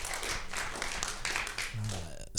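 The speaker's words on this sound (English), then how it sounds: "Give yourselves a round of applause." Live audience at a comedy show applauding: a dense, steady wash of clapping from a crowd, moderately loud, with a voice cutting in near the end.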